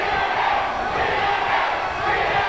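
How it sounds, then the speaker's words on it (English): Wrestling arena crowd at a TNA weekly pay-per-view match chanting in unison, a loud, dense, steady roar of many voices filling the whole stretch. "Crowd chanting TNA because this is total non-stop action."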